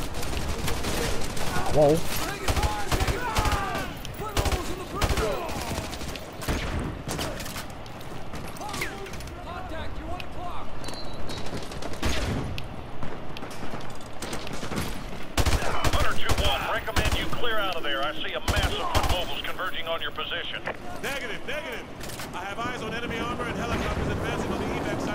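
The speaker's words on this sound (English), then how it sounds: "I'm getting shot down in the roof" Video game combat on a rooftop fills with repeated gunfire bursts, mechanical clanks and explosions, heard under frequent talking and shouting.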